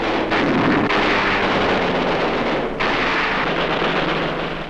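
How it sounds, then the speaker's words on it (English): Loud, rumbling explosions boom in close succession as an anti-aircraft tower is blasted during a World War II air raid in the Philippines, with heavy low-end roars and sharp bursts overlapping in a chaotic barrage. "Anti-aircraft tower is blasted."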